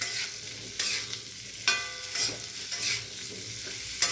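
Potatoes frying in a pan with salt and turmeric, a soft sizzle broken by several sharp scraping stirs of a spatula, close and fairly quiet.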